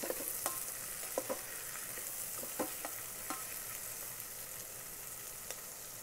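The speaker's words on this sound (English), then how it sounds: "Just for flavor, bring out the aroma, fry it for a minute." Spices for moong dal khichdi fry in an Instant Pot with a soft, even sizzle and scattered small ticks of a spoon stirring, fairly faint and with no voices.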